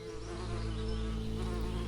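Honey bees buzz loudly and close up in a dense, continuous drone with a steady hum that swells slightly over the two seconds.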